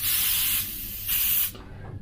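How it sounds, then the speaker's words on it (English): An airbrush sprays atomised yellow paint in close bursts of soft hissing, two long sprays with a short gap and then a quieter trailing hiss. "Now it's spraying it, and that is atomising"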